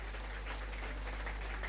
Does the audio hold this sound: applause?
yes